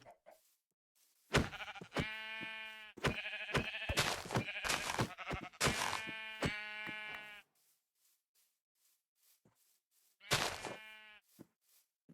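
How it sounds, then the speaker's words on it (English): A black sheep bleating in the Minecraft video game: several loud, wavering baas in a cluster, a pause, then one more bleat, each close and clean against near silence. "there's a black sheep"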